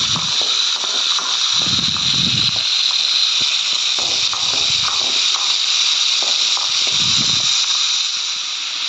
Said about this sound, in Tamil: இப்போது நம்ம வெங்காயம் பூண்டையும் சேர்த்து வதக்கிக்கலாம்.